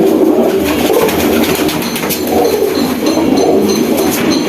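Huma and high-flyer pigeons kept at a home loft coo continuously and loudly up close, a dense, rumbling chorus with no talk over it.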